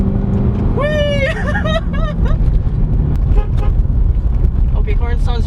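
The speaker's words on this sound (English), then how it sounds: "horn sounds very American" A 2012 Chevrolet Corvette C6 Grand Sport sounds its horn in short toots, layered over road and engine noise inside the moving car, with voices and excited exclamations in between.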